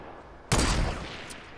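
Gunfire in a Fortnite battle royale match: one sharp, loud burst opening with a heavy low-end thump, trailing into a decaying rumble, followed by a faint second shot.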